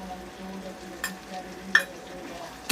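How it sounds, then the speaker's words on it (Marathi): Turmeric and coriander powder being stirred into frying onions in a pan for paratha stuffing, a soft low sizzle with a few light spoon scrapes, close and quiet. "मिक्स करून घेऊ।"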